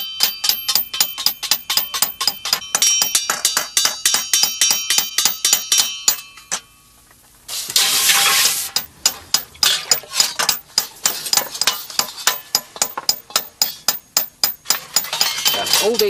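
A hammer rhythmically strikes hot iron being shaped into a three-piece medieval helmet, with steady ringing metallic blows, a brief pause, then a short hissing burst before the rapid hammering resumes under music.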